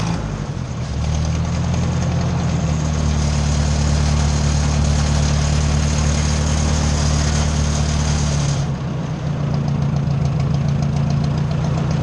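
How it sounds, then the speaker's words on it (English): An old tractor engine that needs no choke fires up and settles into a loud, steady idle, its low rumble and rhythmic knock running continuously close by, with a brief shift in pitch near the end. "Now it should go boom and go down to an idle."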